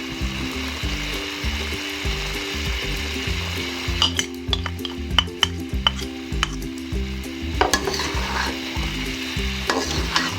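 Chicken frying in a pan with bitter gourd (karela), a steady sizzle under repeated scraping and stirring clicks from a utensil, with no talk.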